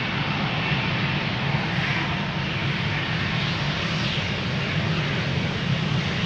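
A KLM Boeing 787 taking off at Amsterdam Schiphol gives a steady, broad jet roar that holds loud and even throughout, with no voices over it.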